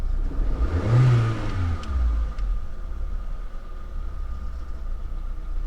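A Renault Clio engine, just fitted with a new idle control valve and throttle position sensor, revs up sharply once, then settles back to a steady idle hum with a faint whine running through.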